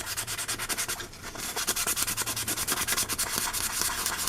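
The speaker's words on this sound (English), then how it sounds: "Like 600 grit. So all you do, just sand it." A solar light is sanded with 600 grit sandpaper in quick, steady back-and-forth rasping strokes, close and continuous with a regular rhythm.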